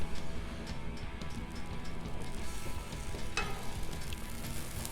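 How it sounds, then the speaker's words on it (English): Peanut oil and butter sizzle softly on a Blackstone flat-top griddle, a low, even crackle with a few faint ticks and one brief sharper pop partway through. "I'm gonna throw a little peanut oil down here. I'm gonna throw some butter down."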